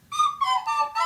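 A tin whistle plays a short phrase of four clear, bright notes, loud and close with no talking over it.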